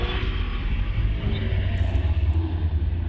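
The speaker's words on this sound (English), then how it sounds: "That Vauxhall Chevette coming back" A Vauxhall Chevette racing car on a hillclimb course at Loton Park, its engine giving a steady, loud, low roar throughout with no pauses.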